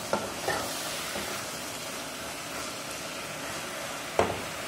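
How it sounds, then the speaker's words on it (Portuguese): Beef sizzles steadily as it fries in a Tramontina pan, with a few scraping stirs of a utensil cutting through the continuous close crackle; no one speaks. "Essa carne que eu tô fritando é carne de segunda a 100."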